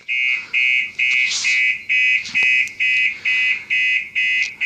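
An aftermarket car alarm, set off by switching the ignition to accessory, gives a loud, close electronic beep that pulses about nine times at a steady, even rhythm with short gaps between the tones.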